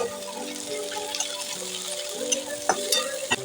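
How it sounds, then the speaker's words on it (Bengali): Onions and tomatoes frying in oil in a pan for chilli chicken, a steady close sizzle with soft stirring scrapes and a couple of sharper spoon clicks near the end, with a faint background hum. "এবার পেঁয়াজগুলোকে দিয়ে দেবো এবার টমেটোগুলো দিয়ে দিচ্ছি"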